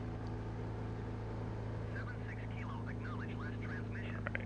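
The twin engines of a Cessna Skymaster in Microsoft Flight Simulator 2020 make a steady, even drone under load, with a person talking over it.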